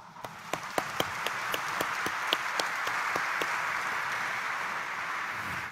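Church congregation at the Minor Basilica of the Black Nazarene breaking into applause, opening with a few separate sharp claps that quickly swell into a broad, sustained roar of clapping across the large hall before fading.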